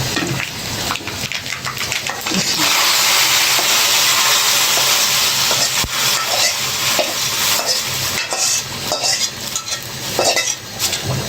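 Tempering fried to colour is poured over vegetable khichuri with cashews, erupting into loud, sustained sizzling that crackles on for several seconds, with occasional clinks of a utensil.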